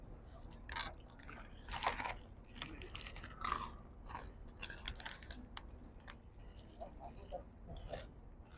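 Crunchy chips being chewed close up, with repeated crisp bites and crunches in an irregular rhythm over a quiet background, no talking.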